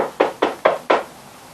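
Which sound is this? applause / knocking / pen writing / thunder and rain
knocking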